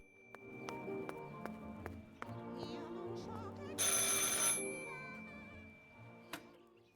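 A telephone rings in the horror video game Martha Is Dead, repeating steady bell-like trills at an even rhythm with a brief louder electronic burst midway, set against quiet ambient game sound.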